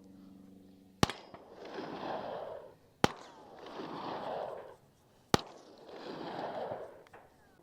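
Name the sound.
suppressed handgun shots being fired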